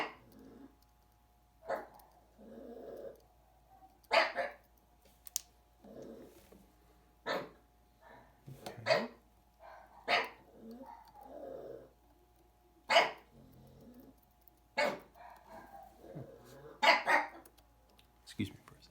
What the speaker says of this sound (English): You got one dog that barks at whatever he can hear, and then another dog that barks at him for barking.